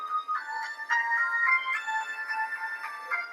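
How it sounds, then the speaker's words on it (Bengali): A custom name ringtone plays from a phone as a short, fairly quiet melodic electronic tune with bright repeating tones, heard alone without talk. "আমি এখান থেকে প্লে করে আপনাদেরকে শুনিয়ে দিচ্ছি রানা কেউ আপনাকে ফোন করছে"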